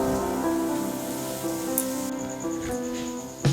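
Carrots and beans fry in a pan with a soft, rain-like crackle of sizzling oil, steady and close, under background music, with a brief clink near the end.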